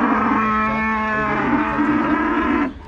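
A dairy cow at a weekly cattle market moos once in a long, loud, close drawn-out call that ends sharply near the end.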